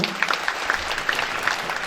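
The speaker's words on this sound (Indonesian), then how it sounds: "Sekolah Anak Merdeka, tepuk tangan untuk kita semua." Applause from an audience at the opening of a school event, a steady wash of many hands clapping throughout, moderately loud and without talk over it.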